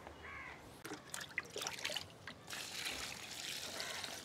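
Diluted peanut cake fertilizer water pours from a container onto potted plants in bursts of splashing and trickling, with crows cawing in the background.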